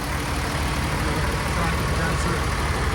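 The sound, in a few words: diesel truck engine running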